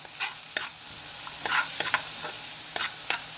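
Aromatics sautéing in a pot for Jamaican rice and peas: a soft frying hiss broken by repeated scraping strokes of a spoon stirring close by, with no talking.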